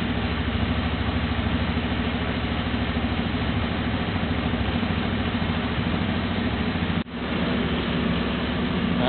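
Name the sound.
automatic scooter engine idling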